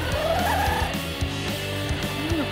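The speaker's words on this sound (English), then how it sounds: "even my bird's mad over there. Do you hear him?" A pet bird calls from across a room in short chirping warbles, faint beneath a steady loud mechanical whine and hum.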